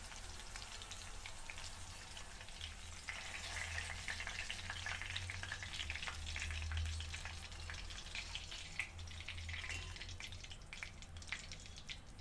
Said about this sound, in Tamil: மிளகாய் பொரிக்கும் போது மட்டும் பார்த்து பொரிச்சுக்கோங்க